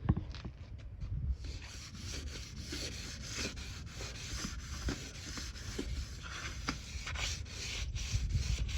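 Sandpaper of 320 grit rubs over an exterior wood finish in quick, steady back-and-forth strokes, a soft continuous scratchy hiss close by with no talk.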